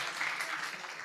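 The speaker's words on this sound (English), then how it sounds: "let's give a round of applause to organizers for organizing this fantastic event" Audience applause at a conference event honoring the organizers, a steady wash of clapping filling the room without pause.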